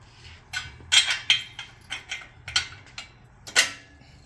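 Metal bolt being fitted into an ALTA SOLO basket on an ALTA bike rack, a series of short, sharp metallic clinks and taps with a faint creak, irregularly spaced and close by.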